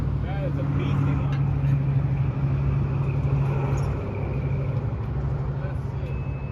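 A John Deere 310SE turbo two-wheel-drive backhoe idles and runs steadily nearby, a constant low diesel drone with a faint whine above it, while someone talks over it.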